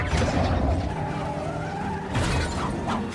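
Cars skid and smash in a chase from a 2017 Jason Statham film, with a roaring engine and screeching tyres up front, then a fresh burst of crashing and scraping partway through, loud and close.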